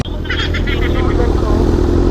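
A big bike motorcycle engine rumbles steadily up close for the whole stretch, a deep continuous drone with voices talking over it.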